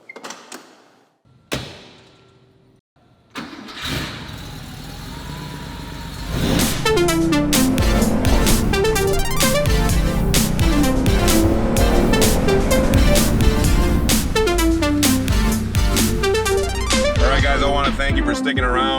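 Porsche 930 Turbo engine on a ride, a few quiet knocks and shuffles before the flat-six starts and holds a loud, steady, rumbling drone with shifting revs through the rest, no voices.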